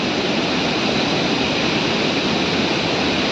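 The Rambi Khola river rushes past, a steady broadband roar of fast water, loud and continuous with no voices or pauses.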